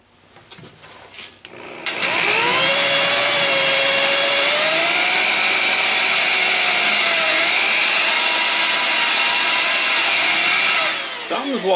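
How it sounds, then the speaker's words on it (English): A power drill whirs loudly and continuously for several seconds, its pitch wavering slightly as its wobbling bit bites into material while mounting a compressor pump and motor, then winds down. "Wow, maybe it's my drill."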